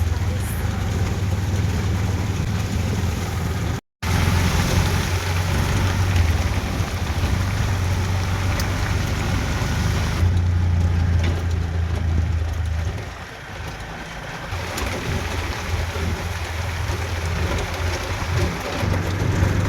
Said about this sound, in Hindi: बहुत तेज पानी बरस रहा है।